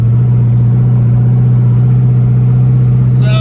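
A twin-turbo 2019 Camaro ZL1 engine hums low and steady while cruising at 50 mph under 2,000 RPM, with a deep droning tone and no voices.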